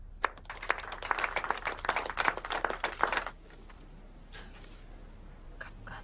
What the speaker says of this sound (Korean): 자, 다 같이 박수.